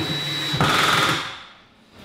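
A screw is driven into a pine kicker on a cabinet with a power driver, giving a brief, close motor whine that shifts pitch partway through before fading.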